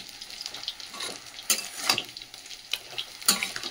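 A vegetable curry with turmeric frying in a pan crackles softly, with several distinct scraping spatula strokes and clinks rising over the gentle, close sizzle.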